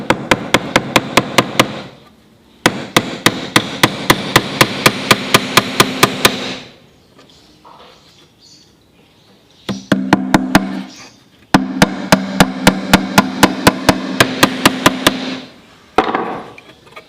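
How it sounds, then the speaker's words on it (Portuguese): A small hammer drives nails into a wooden bee nucleus box, rapid evenly spaced strikes in bursts of about ten blows each, separated by short pauses with faint handling noise, loud and close. "Importante ter um martelinho pequeno como esse para facilitar o processo de"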